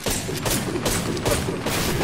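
Rapid gunshots at a firing range crack in quick bursts, loud and close with a booming, reverberant tail that blurs the shots together.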